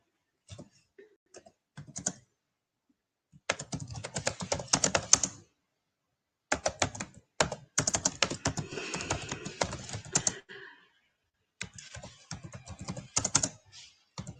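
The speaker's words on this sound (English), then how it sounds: "I'm just typing something in." Bursts of rapid typing on a computer keyboard, close and crisp, come in several runs of clustered key taps separated by short silent pauses.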